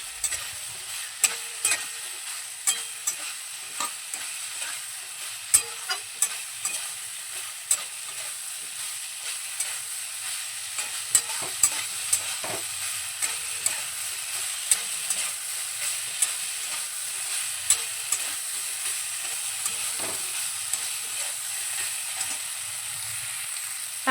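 Boiled soybean chunks stir-fried with spices in oil, a spatula knocking and scraping the pan in a steady rhythm over continuous sizzling, close up and without speech.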